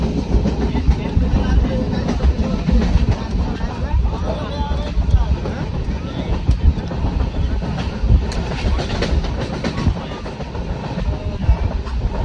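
A passenger train runs on rails through a series of tunnels on a journey from Nepal to Kerala, giving a loud, steady interior rumble with rhythmic clatter throughout, while people talk over it.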